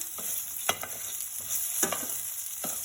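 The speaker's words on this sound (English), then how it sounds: "And we have to mix all these things together." Bitter gourd with turmeric and salt stirred in a pan, with a steady sizzle under several light spatula scrapes and taps, close up with no voices.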